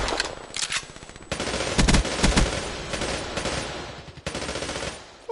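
Rapid automatic fire from a PPSh submachine gun in Black Ops 3, loud, dense bursts of rattling shots with brief pauses between them, no talking.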